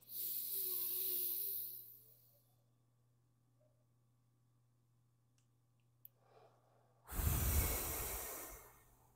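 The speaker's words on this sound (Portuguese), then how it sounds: "puxando o ar, segurando e depois soltando" Slow breathing exercise: a long audible inhale through the nose, a quiet held pause of several seconds, then a strong, breathy exhale close to the microphone.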